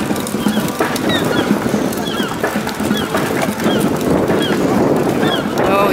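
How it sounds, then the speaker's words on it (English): Seagulls call repeatedly at Venice Beach, California, with short high squawks scattered over steady outdoor noise and traffic rumble, while people talk nearby. "Now look at all the seagulls going crazy."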